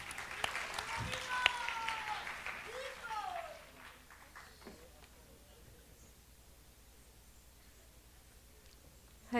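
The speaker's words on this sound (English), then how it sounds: "So please welcome with big round of applause, Her Grace Siddhi Lalsa Mataji." Audience applause welcoming a speaker at a Vrindavan bhajan festival talk, broadband clapping that is strongest in the first few seconds, then thins to faint scattered claps and room noise. A voice sounds briefly over it near the start.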